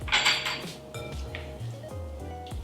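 A matcha white chocolate truffle mixture is stirred in a bowl, with a utensil repeatedly clinking and scraping against the dish in a quick, close, irregular rhythm.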